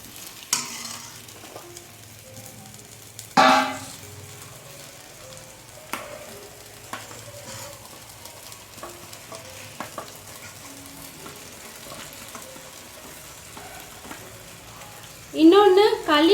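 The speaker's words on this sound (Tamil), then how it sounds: "நான் இப்போ சிக்கன் சேர்த்துக்கிறேன்." Chicken goes into an onion-tomato masala frying in a pan for chicken gravy and is stirred, with a gentle sizzle, scattered scrapes and knocks of a spoon, a louder clatter early on and another burst near the end.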